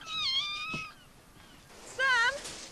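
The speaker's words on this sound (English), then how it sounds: "So Billy went into the cabin and started to look for the kitten" A kitten meows twice inside a cabin, a high wavering cry, then a brief pause and a louder second meow, close by with a voice calling between.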